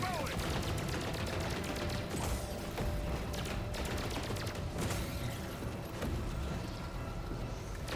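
Rapid bursts of video game gunfire crackle almost continuously, with sharp repeated shots and mechanical clatter layered over a busy background.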